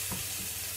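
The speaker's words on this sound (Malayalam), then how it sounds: "നമുക്ക് ഇതൊന്ന് ഇളക്കി കൊടുക്കാം" Cod fish and onions sizzle loudly in a pan while being stirred, a dense, constant frying crackle with a brief scrape of the utensil.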